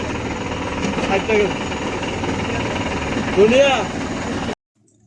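A spice grinding mill crushes turmeric and chili, giving a steady loud mechanical rumble and drone with brief whining swells, while people talk over it throughout before it cuts off near the end.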